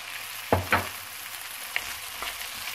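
Garlic and spices being stirred in a frying pan, with a soft steady sizzle and a few distinct scraping strokes of the utensil against the pan, close and fairly quiet, with no talking.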